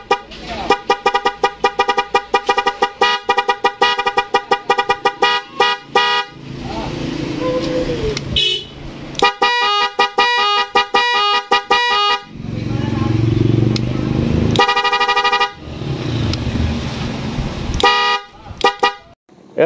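An NHAY 3+ Pro music horn wired through a relay on a vehicle plays loud, close melodic tooting patterns of rapid repeated tones, broken by short pauses between phrases.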